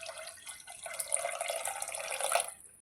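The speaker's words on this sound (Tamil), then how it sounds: "இப்போ இது கூடவே நம்ம தேவையான அளவு தண்ணியை சேர்க்க போகிறோம்." Water poured into a pot of karpuravalli leaf rasam with tamarind, a light splashing trickle that builds over a couple of seconds and then stops, fairly quiet and close.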